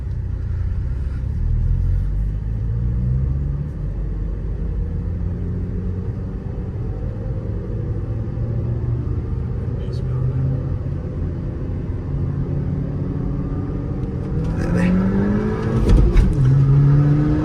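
A Skoda Laura Stage 1 engine roars steadily and builds as it accelerates hard from a drag race start, a loud continuous rumble with revving rising toward the end.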